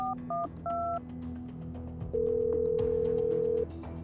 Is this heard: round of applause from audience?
no